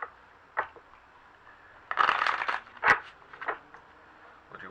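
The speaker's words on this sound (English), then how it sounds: "We'll do one more shuffle so we can kind of clarify." Tarot cards are shuffled in a few soft, brief riffling bursts with quiet pauses between them, close and fairly faint.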